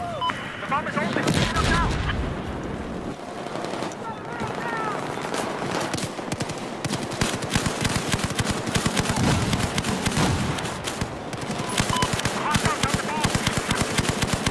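Rapid automatic gunfire in Battlefield 4 on the Siege of Shanghai map, with loud continuous bursts and booms that fill the whole stretch while players talk over it.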